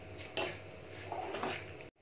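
Roasting semolina (rava) is stirred in a pan with a spoon, giving a few scraping, rustling strokes with light metallic clinks, close and fairly quiet, ending abruptly.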